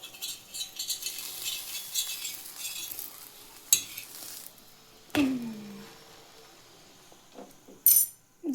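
A snack frying in a little oil in a home kitchen pan: a faint, steady sizzle with scattered utensil clinks and scrapes, and a few sharper knocks of metal on metal.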